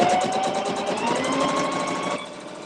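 Domestic sewing machine stitching a seam on a fabric face mask, a steady rapid mechanical whir with fast periodic ticking that runs continuously and then drops slightly in level near the end.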